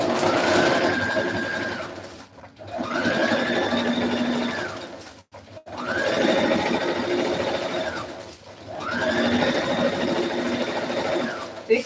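A sewing machine top-stitches along the crease of a dress seam in four steady whirring runs of a couple of seconds each, separated by brief pauses, fairly close and loud.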